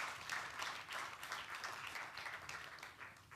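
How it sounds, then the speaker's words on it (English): Audience applause at a conference plenary session on global crises, a dense, fairly quiet wash of clapping from a large hall lasting a few seconds. "Let's give her a round of applause."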